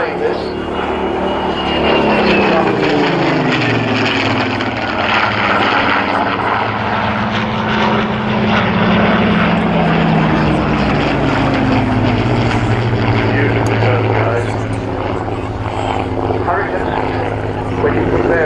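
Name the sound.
Mark 19 Spitfire propeller aircraft flying at airshow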